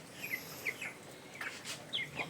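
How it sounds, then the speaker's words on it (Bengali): Chickens suffering from heat under a low tin roof during a power cut give short, faint chirping clucks, several in scattered succession from close by, with no talk. "এই মুরগিগুলো হাঁপাচ্ছে"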